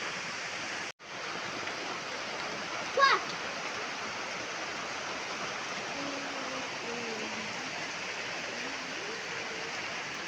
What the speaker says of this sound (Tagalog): Nakatambay kami dito guys. Kasi umuulan.